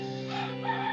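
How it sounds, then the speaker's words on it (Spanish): A rooster crows once, a short, faint, clear call with harmonic overtones, heard alone with no voices around it. "el gallo cantó"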